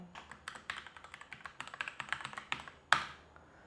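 A password is typed on a computer keyboard: a quiet, close run of about two dozen light key taps in an uneven rhythm, ending with one sharper, louder press.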